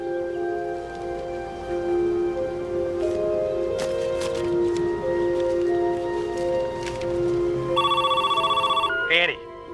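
A telephone rings with a repeated electronic trill near the end of a tense dramatic scene, loud and close, following a stretch of background ambience and a low hum.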